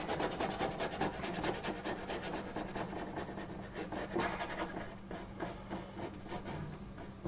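A paintbrush pressed hard and scrubbed into canvas, working oil paint into mid-ground hills, gives a steady, dense rasping rub with rhythmic back-and-forth strokes, close and continuous throughout.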